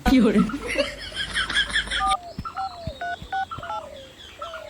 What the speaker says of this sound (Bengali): ওকে ফোন করতেছি